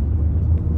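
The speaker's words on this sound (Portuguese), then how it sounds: "Agora vamos dar uma voltinha com esse Focus" A 2010 Ford Focus with a 1.6 Sigma engine being driven, heard as a steady low engine and road rumble from inside the cabin, brief and even.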